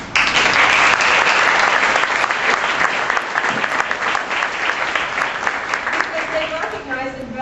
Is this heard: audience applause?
yes